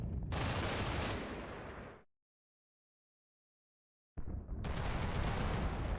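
Dense bursts of machine gun fire in the WWII Normandy combat game Combat Mission: Battle for Normandy, loud and continuous for two seconds, then full silence before the firing resumes just as heavily.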